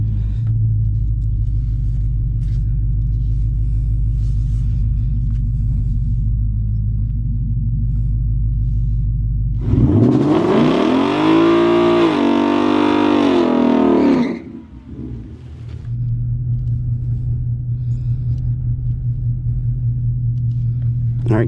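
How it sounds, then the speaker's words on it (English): A 2020 Coyote-powered car with a 10R80 transmission running E85 sits idling with a steady, loud lumpy rumble, then roars off on a drag pass for a few seconds of hard acceleration before returning to a deep idle. "we are going to make our second pass"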